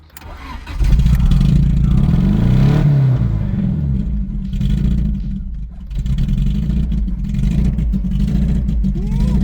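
BMW E36 engine with a blown head gasket cranks and catches, then runs with a loud, low, rough drone that rises briefly and settles into an uneven idle, heard up close.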